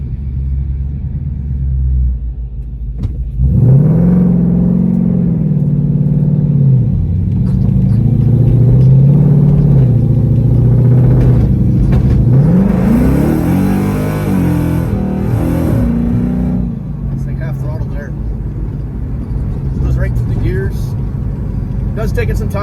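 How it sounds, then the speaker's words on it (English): A car with a 6R80 automatic transmission accelerates, heard up close with a deep engine drone. Its pitch climbs and then dips at each slow, drawn-out gear shift, with several shifts in a row. "Taking some time to shift into gears."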